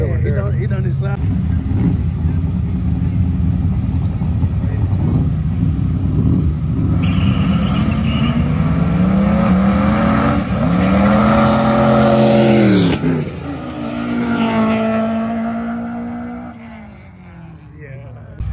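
A Dodge Charger's engine rumbles loudly and steadily as the car moves past, its pitch rising and then falling, while people talk close by throughout.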